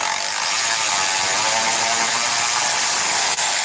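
A Snap-on 14.4V electric ratchet spins continuously as it loosens cylinder head bolts on a 2008 Chevy Cobalt, giving a loud, steady whirring buzz for several seconds with a brief dip near the end.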